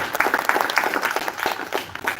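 An audience applauds at a live-streamed safe labour migration event, a loose crowd of hands clapping in a patter of distinct claps that rises and falls for a couple of seconds, fairly close and with no talking.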